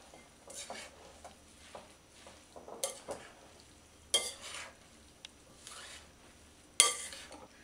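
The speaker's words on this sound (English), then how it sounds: "I'm just mixing them all together" Chopped tabbouleh vegetables, parsley among them, are tossed together in a bowl with soft wet rustling and intermittent clinks of a utensil, close and fairly quiet, in irregular bursts.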